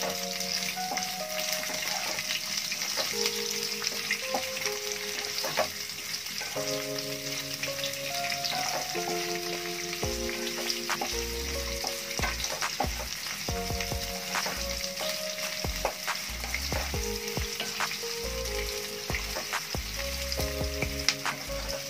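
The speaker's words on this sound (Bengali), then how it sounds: "এবারে কাটা পেঁয়াজগুলো দিয়ে দেবো।" Chopped onions fry in a pan for a village-style vegetable soup, a steady close sizzle running throughout, with occasional stirring clatter and a faint tonal background.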